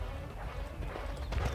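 Horses' hooves clip-clop at a steady walking rhythm, heading into a forest, with a low rumbling bed underneath and no clear speech.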